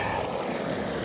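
Flood water gushes from an opened spillway pipe at a relief spillway, a loud, steady, close rushing roar that runs the whole time.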